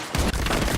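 A grenade explodes in a first-person shooter, a loud, dense, close boom that fills the whole short moment with a rumbling roar.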